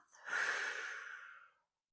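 A single slow, deep breath during a mat Pilates warm-up, drawn in through the nose and let out through the mouth as a soft, airy rush that swells and fades over about a second and a half, close and quiet.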